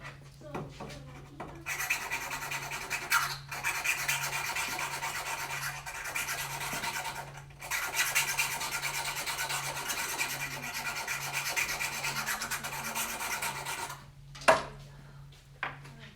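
Sharpening the tip of a PVC blowgun dart makes a steady, close rubbing rasp that runs for long stretches with a few short breaks.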